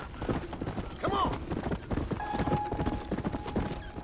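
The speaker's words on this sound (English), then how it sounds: "I found one of the apocalypse horses" Hoofbeats from an apocalypse horse galloping in Red Dead Redemption: Undead Nightmare, a steady clip-clop rhythm with a brief whinny-like tone, set in a busy game soundscape.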